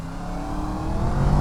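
Engine of a 2019 Yamaha MT10 SP motorcycle pulling hard under acceleration, a loud, steady rising roar with continuous wind rush and no pauses.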